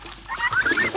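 Farm chickens in Assam peck at grain scattered on a plastic sheet, giving a brief burst of soft, close clucks.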